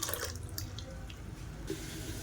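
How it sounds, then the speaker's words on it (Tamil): Water sloshes and splashes in a mixer grinder jar as it is rinsed out after grinding chana dal chutney, close and fairly loud in short bursts with no talking. "மிக்ஸி அலசிட்டு தண்ணியை சேர்த்துக்கலாம்."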